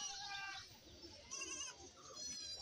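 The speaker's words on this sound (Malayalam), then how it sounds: "ഒരു വണ്ടിയിൽ ഇപ്പോൾ കുറച്ച് ആടുകളെ കൊണ്ടുവന്നിട്ടുണ്ട്" Goats and young kids bleating at a goat market in Kerala, with several overlapping calls, some high and wavering, repeated over a steady crowd murmur and low background noise.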